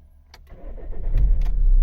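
A Vauxhall Insignia car with a flapping fault, its engine sound building from a low rumble to a louder, steady drone with a few sharp knocks and flaps near the end, close by with no talk.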